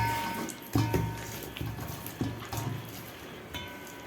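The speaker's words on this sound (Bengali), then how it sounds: "লবণ দেওয়ার পরে এরকম একটু জল অ্যাড করব।" Water being poured and mixed into salted dough, soft close splashing and sloshing with irregular squelchy bursts, no talk.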